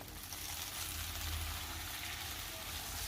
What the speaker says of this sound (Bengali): এবার আমি দিয়ে দিচ্ছি মিষ্টি কুমড়ো।